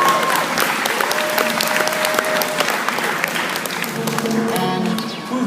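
A crowd applauds steadily and fairly loudly for several seconds, the dense clapping tapering slightly toward the end.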